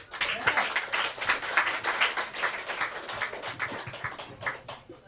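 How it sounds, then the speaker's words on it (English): An audience at a vegan talent show event claps and applauds for a performer coming onstage, a dense, steady wash of clapping at moderate loudness that tapers off at the end. "give a round of applause for David, please."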